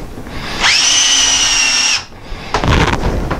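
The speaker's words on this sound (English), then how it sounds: "we're going to take a drill" A power drill cuts a center hole into a marked workpiece with one loud, steady whine of about a second and a half, then a rougher, grinding burst after a short pause.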